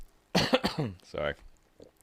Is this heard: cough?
yes